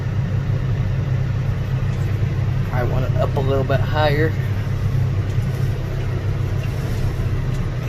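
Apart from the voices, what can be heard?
John Deere 6115R tractor engine driving along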